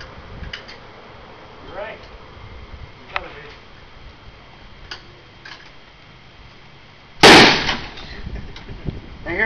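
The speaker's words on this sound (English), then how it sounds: "They hear a bang, there's a bang. That's a 1-amp fuse with gunpowder." A 1-amp power line fuse packed with gunpowder blows during a live line demonstration, a single loud sharp bang near the end after quiet ticking and faint background noise, with people talking at times.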